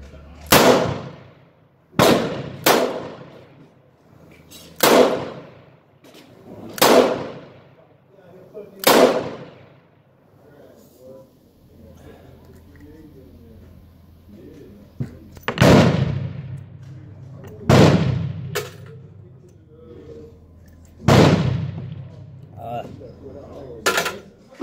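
About a dozen sharp, loud gunshots from a Taurus 85 .38 Special revolver fired double action at a range, spaced a second or two apart in two strings with a short pause between them.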